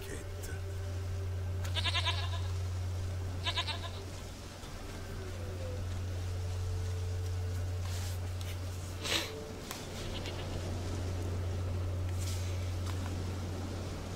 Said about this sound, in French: Une chèvre à moi, gentille, douce, biquette.